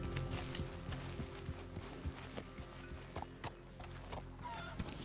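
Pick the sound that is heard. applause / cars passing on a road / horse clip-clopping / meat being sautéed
horse clip-clopping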